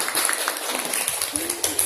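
A classroom of students clapping for themselves at the end of a speaking session, a steady patter of many hands at moderate loudness with faint voices mixed underneath.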